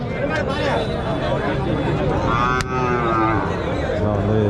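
Cattle at a native-breed cattle market in Marapalli bellow repeatedly over a steady crowd murmur, with several moos overlapping and one clear call standing out near the middle.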